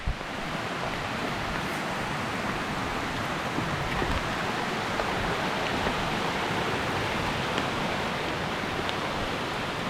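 Steady rain pours down on a trail during the third hour of a long run, a dense, even hiss that stays constant and close throughout with no talking.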